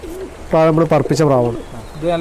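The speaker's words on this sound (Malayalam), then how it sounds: "ഈ പ്രാവ് നമ്മൾ പറപ്പിച്ച പ്രാവാണ്" A pigeon gives a close, deep cooing call, a few rolling throaty phrases with brief pauses between them, and someone talks nearby.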